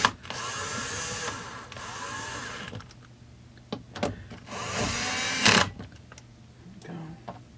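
Case bolts on a Stihl MS200T chainsaw are run in with bursts of a whirring power driver, two longer runs at the start and another midway, separated by quiet handling clicks, close and moderately loud.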